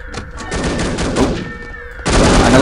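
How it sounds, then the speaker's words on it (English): Gunfire in the spy shooter The Operative: No One Lives Forever inside an enemy base, rapid bursts of shots crackling close and loud, with a tonal hum beneath and a sudden heavier volley near the end. "I don't like being shot at"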